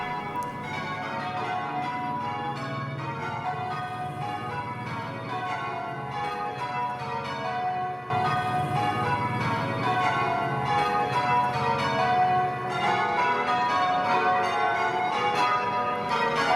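Church bells in Holmfirth, West Yorkshire peal continuously, overlapping tones ringing out loud and steady, growing fuller partway through.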